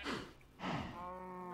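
Two cattle moos from a Minecraft cow, the second a long drawn-out low call with steady harmonic tone, both close and clear with no talk over them.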